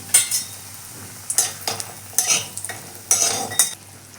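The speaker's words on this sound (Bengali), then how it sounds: "একটা বড়ি নিয়েছি বড়িটা ভেজে নিচ্ছি" Urad dal (biuli) lentil dumplings fry in a pan of oil, with a soft sizzle broken by several sharp bursts of scraping and stirring against the pan, no voices present.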